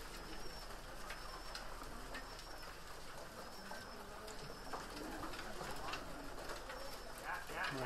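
Racing pigeons coo and rustle in an enclosed loft while being fed as a whistle sounds faintly, with a continuous low murmur of birds throughout.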